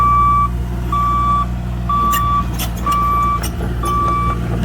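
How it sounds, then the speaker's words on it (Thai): A Cat 303.5 CR mini excavator's travel alarm beeps five times at an even pace, loud and close, over a low rumbling engine idle. "มีเสียงอะลามเตือนครับ ตอนรถเคลื่อนที่นะฮะ"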